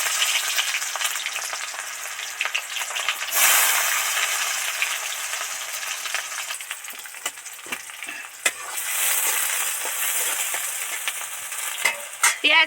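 Chopped onion frying in a pan over a wood-fired stove beside bay leaves, sizzling steadily with surges of hissing and scattered clinks of a spatula being stirred.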